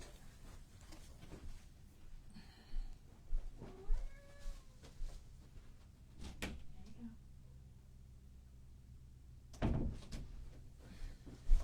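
A house cat meows once or twice near a door at home, faint among soft rustling, thumps and a door sound, with talk nearby.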